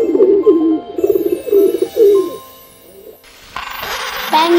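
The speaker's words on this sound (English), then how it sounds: "This is a pigeon." A pigeon coos in a soft, rolling rhythm of several close calls, followed by a brief pause and a different brighter sound near the end.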